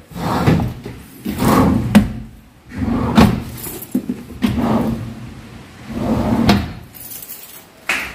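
An aluminum kitchen cabinet drawer slides open and shut several times in a row, each pass a close, rattling metallic rumble ending in a sharp clack, with brief pauses between movements.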